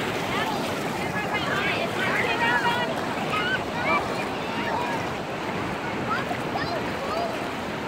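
Ocean surf rolls continuously on the beach at Seaside, Oregon, a steady broadband wash of waves mixed with wind noise on the microphone, loud and close, with faint voices in the background.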